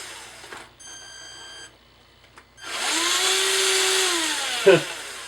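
A small electric motor of an HG P407 scale metal RC crawler truck in first gear whines loudly and steadily after a brief quiet stretch, its pitch sliding down then up like a vacuum cleaner, with a thump near the end.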